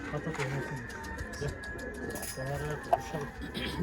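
Pigeons coo softly in low, repeated throaty phrases while people talk nearby over a background hum.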